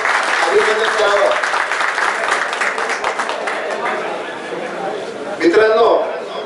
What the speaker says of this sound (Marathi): तर सगळ्यांनी मित्रांनो त्यांच्याकरता खूप खूप टाळ्या वाजवून त्यांचं अभिनंदन करावं